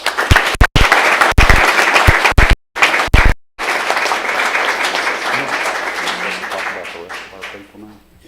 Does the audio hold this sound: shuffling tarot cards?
no